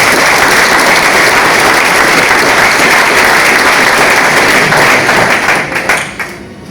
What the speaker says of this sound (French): Je souhaiterais qu'on applaudisse à nouveau pour lui.